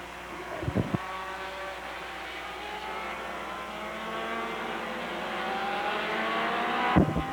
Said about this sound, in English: as the field motors down the front straightaway